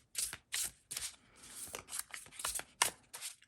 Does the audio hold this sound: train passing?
no